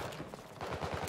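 Rapid automatic gunfire from a weapon in the shooter game Battlefield 2042, a short dense burst of quick repeated shots at moderate loudness, with no talking.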